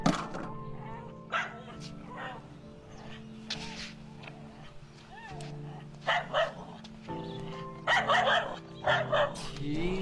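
A dog barks in short yips and bursts, loudest near the end, amid a busy indoor movie scene with voices and other noises.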